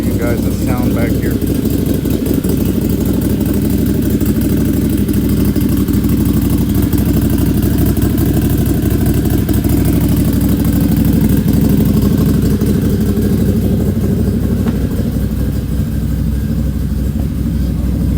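A turbocharged Can-Am Maverick Sport XRC side-by-side idles steadily from behind, a continuous low engine rumble with no revving, loud and close throughout.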